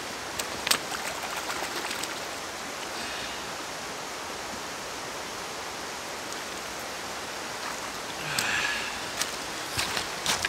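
A metal flashlight being washed under running water, with a steady broad splashing hiss for the whole stretch and a few brief louder splashes and clicks near the start and the end.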